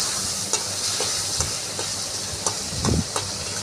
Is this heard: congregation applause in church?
no